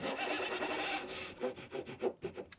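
A hand saw cuts a wooden tenon clamped in a vise, first a continuous close rasp, then a series of distinct rhythmic back-and-forth strokes, about eight, with no talk.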